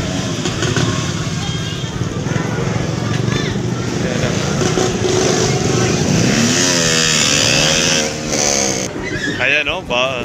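Noisy motorcycle engines revving during a New Year's celebration, loud rasping motor noise that rises and falls in pitch, with voices talking over it.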